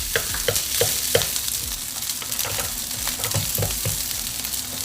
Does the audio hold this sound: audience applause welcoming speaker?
no